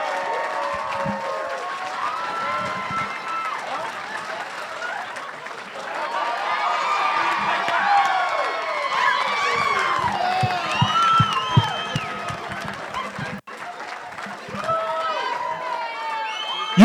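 A stand-up comedy crowd at a comedy fest show applauds and cheers for comedian Rodney Norman, steady clapping layered with whoops and shouts throughout, briefly cut near the end before resuming.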